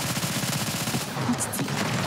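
Rapid gunfire from the mobile shooter game NIKKE during a boss fight, a fast continuous burst of shots mixed with loud background music.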